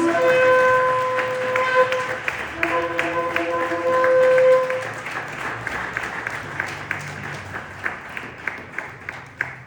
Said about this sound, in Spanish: denle un aplauso a nuestro Dios